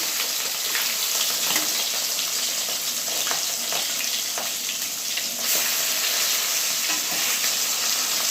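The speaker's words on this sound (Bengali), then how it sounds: "মাছটা ভাজা ভাজা হোক" Rohu fish sizzles and spatters steadily in hot oil on lowered heat, a continuous crackling fry heard close up with no voices.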